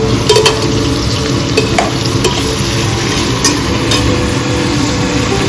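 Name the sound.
stirring tomatoes in a frying pan for fish pulao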